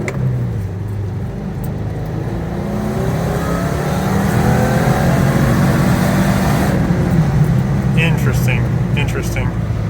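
Supercharged Subaru FB25 engine on 5 psi of boost, revving up toward high RPM and bogging near the top, its note climbing and then dropping off while a person talks over it.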